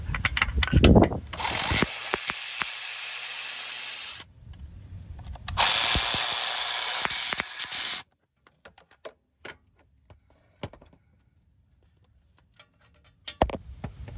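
A hand ratchet loosens 15 mm bolts on the starter of a Cadillac CTS, rapid clicking bursts of several seconds separated by pauses, followed by scattered light metallic taps and clinks.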